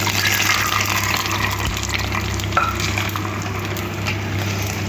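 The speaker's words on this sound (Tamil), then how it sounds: "மோர் ஊற்றிடுவோம்" Salted buttermilk is poured in a home kitchen, giving a steady, continuous liquid rush with a low hum beneath it. The sound stays even and close for the whole stretch, with no one speaking.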